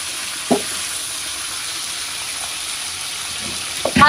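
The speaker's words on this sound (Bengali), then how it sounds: "মাছগুলো ভাজা হোক" Fish fries in hot oil in a pan, the start of a fish curry with drumsticks, giving a steady close sizzle and hiss throughout with a couple of brief utensil clinks.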